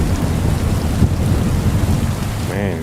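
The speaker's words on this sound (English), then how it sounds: "Man, it's raining harder and harder outside." Rain falls hard and thunder rumbles low and heavy in the medieval video game Kingdom Come Deliverance 2, a loud, continuous stormy wash.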